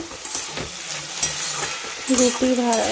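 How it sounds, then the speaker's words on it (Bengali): Potatoes fry in a pan while being stirred, a close crackling sizzle with repeated scrapes and clinks, and a faint voice enters near the end. "এখন আলু ভাজা হচ্ছে"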